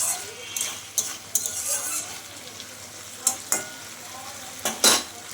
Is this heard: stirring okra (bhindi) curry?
yes